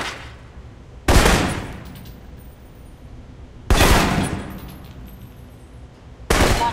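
Assault rifle fire in the Alpha Protocol video game comes as three loud, close bursts spaced a few seconds apart, each one ringing out and then tailing off over a steady low background hum.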